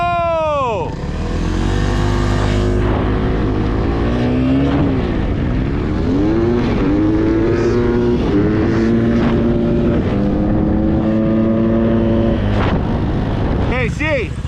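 Small engines of kids' dirt bikes or ATVs racing on a dry lake bed, revving steadily and rising and falling in pitch as they accelerate, loud and continuous throughout, with voices faintly audible beneath.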